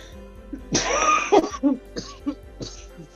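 A person coughs in a loud, harsh burst followed by a few shorter coughs and throat-clearing sounds, close to the listener with a low hum behind.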